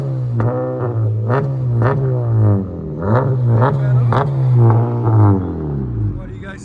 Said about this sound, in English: He's gonna rev it.